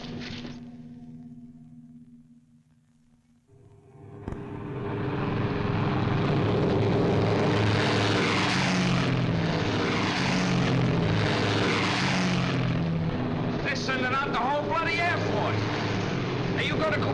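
Engines of bombers pulling out for takeoff on a Pacific island in a 1944 wartime film, a quiet tone giving way to a loud, swelling propeller drone that holds steady and close, with voices under it.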